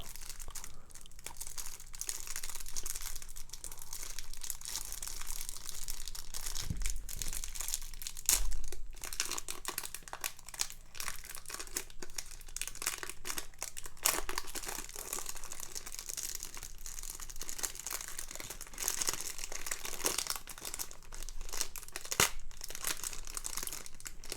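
1987 Fleer cello baseball card packs being opened by hand, close crisp crinkling and crackling of cellophane wrappers in a steady stream of rustles with a few sharper tears.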